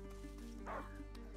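A hunting dog in the video game A Plague Tale: Innocence gives a single short bark, fairly faint, over a steady low hum.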